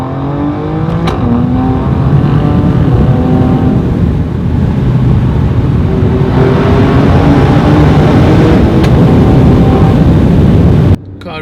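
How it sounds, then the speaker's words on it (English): An Alfa Romeo Stelvio Quadrifoglio SUV with a 2.9-liter twin-turbo V6 revs hard on a test ride, a loud, sustained engine roar rising and falling in pitch through repeated gear pulls, close and continuous before cutting off abruptly at the end. "Car sounds fantastic, even better than the Giulia."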